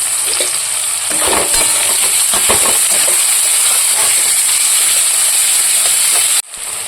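Steady, loud sizzle of potatoes frying with black cumin, onion, green chili and tomato, with scraping stirring noises throughout, cutting off abruptly near the end.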